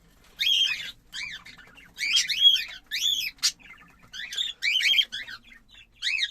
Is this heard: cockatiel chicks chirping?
yes